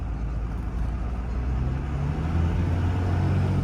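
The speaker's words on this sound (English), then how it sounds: "I've never even heard the turbo that loud ever on this truck." A 24-valve Cummins turbo diesel truck accelerates with a steady, loud low engine roar that gradually rises in pitch, with no talking.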